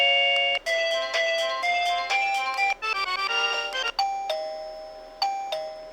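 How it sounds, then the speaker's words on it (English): A video doorbell cycling through its selectable chimes, with several bright tonal melodies of ringing notes playing in quick succession, clear and fairly loud with no talking. "So they have several different chimes that you can choose from."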